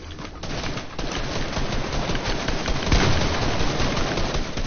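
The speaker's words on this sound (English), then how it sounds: "your teammate's shooting at me" Rapid video-game gunfire from a teammate shooting, a loud continuous burst of repeated shots filling the whole stretch with no talking.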